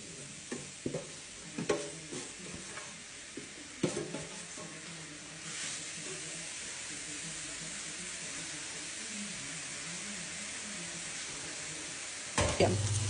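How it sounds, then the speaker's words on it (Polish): Onions sizzle steadily in a hot pan, with occasional stirring scrapes and clatters over the continuous frying hiss. "Pierwsze co ja zrobię, to będziemy smażyć cebulę."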